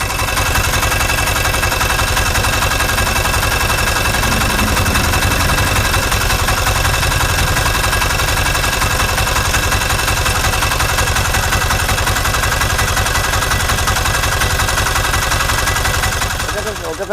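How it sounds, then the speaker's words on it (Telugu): A borewell drilling truck's engine runs steadily and loudly close by, a continuous rumbling drone lasting throughout with no pauses, and faint voices occasionally audible beneath it. "బండి మేము స్టార్ట్ చేద్దాం"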